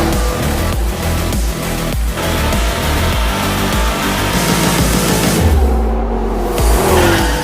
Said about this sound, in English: To be able to drive 80 miles an hour on a film set towards a camera crew and drift it